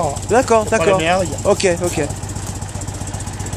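A Citroën Méhari engine running at idle, a low steady putter throughout, with two people talking briefly over it at the start before the engine carries on alone.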